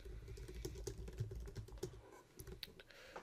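Someone types a new preset title on a computer keyboard in motion-graphics software, producing irregular close keystroke clicks over a low steady hum, with no talking.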